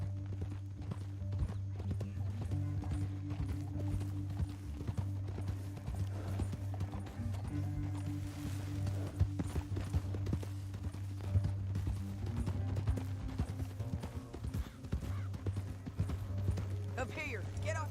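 Horses in the video game Red Dead Redemption 2 gallop with continuous rhythmic hoof clip-clop under a steady low drone, while characters talk over the ride.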